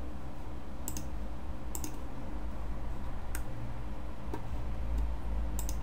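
Computer mouse clicks on a QGIS toolbar icon, several sharp isolated clicks spaced a second or so apart over a steady low background hum.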